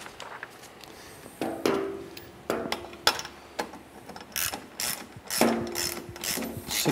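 A ratchet fitted with a 16mm socket snugs up a bolt, clicking in short, irregular close-up bursts separated by brief pauses, alone with no talking.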